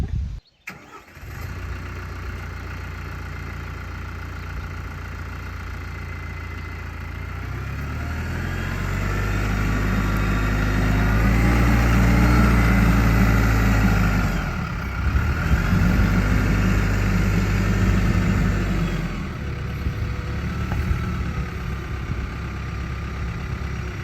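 A big tractor engine cranks and fires, then settles into a steady low diesel idle that swells in load midway and eases back, close and continuous throughout with no talking.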